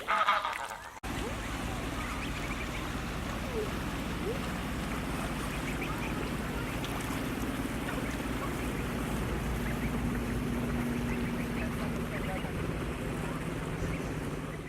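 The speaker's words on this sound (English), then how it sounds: "after this you'll see some geese and their goslings" Geese and their goslings on a riverbank of the Norfolk Broads, heard from a kayak: soft honks and murmuring calls against a steady outdoor water and wind background, fairly faint.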